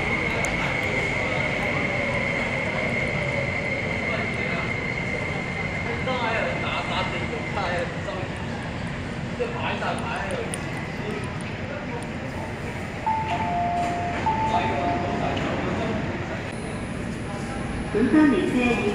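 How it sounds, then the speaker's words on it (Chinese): An MTR train pulling into Tai Wai station platform, a steady rumbling roar with rising tones and rail noise throughout, heard under loud platform announcements in several languages. "往乌溪沙的列车现在到站，请乘客不要超越黄线。"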